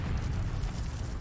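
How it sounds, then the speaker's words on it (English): Demolition explosives going off inside a building, a short, loud, dense boom with rumbling low-end debris noise filling the whole moment. "The explosives go off, and the building literally folds inward."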